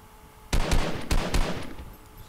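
Gunfire in Fortnite Mobile, three loud close shots, one followed by a quick pair, ringing out against quiet background noise.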